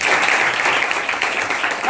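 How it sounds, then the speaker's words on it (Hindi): A crowd at a Beti Bachao Beti Padhao gathering claps loudly and densely to welcome a girl, a continuous burst of applause throughout. "इस बेटी के लिए जोरदार तालियों से स्वागत करें।"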